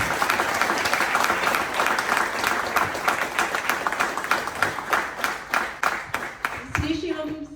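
A crowd applauds steadily, the dense clapping thinning into rhythmic, more distinct claps toward the end before a voice briefly cuts in.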